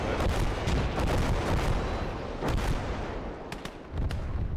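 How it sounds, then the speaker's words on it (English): Grenade blast amid battlefield gunfire in the Gates of Hell war game, a loud, dense rumble of explosions and shots filling the whole stretch with a few sharper cracks, no talk. "Let's get a nice grenade off"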